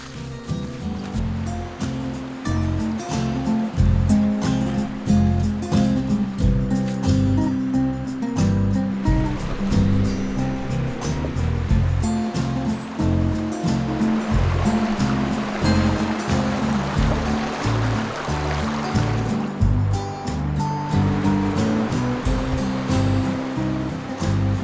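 A mountain trout stream in the Geehi area rushes steadily beside a riverside campsite, a loud continuous broadband wash of flowing water with no voices.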